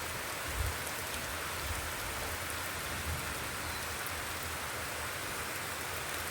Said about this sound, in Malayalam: പെട്ടെന്ന് മഴ അങ്ങ് വന്നു നല്ല മഴയായിരുന്നു ദേ മുറ്റത്തൊക്കെ വെള്ളം ഒഴുകാൻ തുടങ്ങി